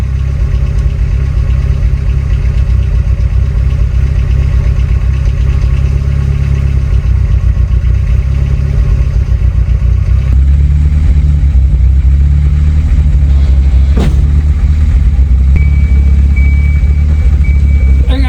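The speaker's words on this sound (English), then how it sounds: "So we'll let the car warm up and we'll kind of watch what that does." A turbocharged Volvo 245 idling as it warms up, a steady close low rumble that shifts to a deeper, fuller idle partway through, with a brief click and a faint whine late on.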